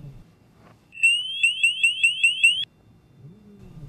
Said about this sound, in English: The G450 has more than one alarm for each sensor.